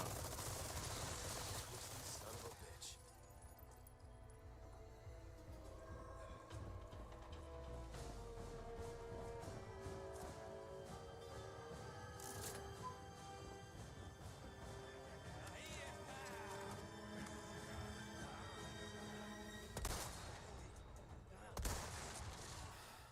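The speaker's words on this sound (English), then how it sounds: "Let me on the machine gun now." Sustained machine gun fire in Resident Evil 4 Remake, a long dense stream of rapid shots with explosions and impacts, fairly faint under game music.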